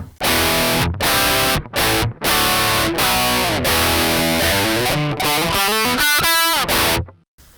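Fizzy, thin distorted electric guitar chords and runs from an ADA MP-1 Classic tube preamp's stage outputs run direct, played in bursts with short gaps, sounding raw and harsh.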